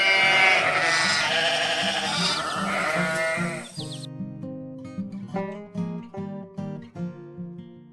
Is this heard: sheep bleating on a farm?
yes